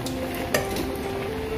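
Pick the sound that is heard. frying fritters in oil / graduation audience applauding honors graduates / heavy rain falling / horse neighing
frying fritters in oil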